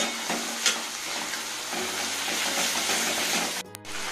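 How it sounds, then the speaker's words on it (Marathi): Vegetables sautéing on a low flame with green chili sauce, Schezwan chutney and tomato ketchup for veg Hakka noodles give a steady close sizzle and frying hiss, with occasional stirring scrapes throughout. "आणि हे 2 मिनिटं परतून घेणार आहोत लो फ्लेम।"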